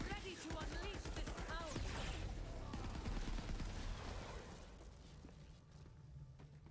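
Heavy weapon fire in Borderlands 3, with rapid overlapping shots and blasts that crowd the first few seconds while a voice speaks over them, then tails off into a quieter rumble near the end.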